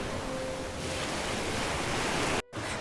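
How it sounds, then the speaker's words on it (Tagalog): Strong ocean surf roars steadily in a dense, rushing wash of noise at Jomalig Island, Quezon province, Philippines, with wind buffeting the microphone, briefly dropping out near the end. "sobrang lakas ng alon"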